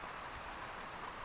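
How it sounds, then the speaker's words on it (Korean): Steady rain falls at a fishing pond before dawn, wind also blowing, a dense, even hiss of drops filling the whole clip with no voices. "하루 종일 비가 오고"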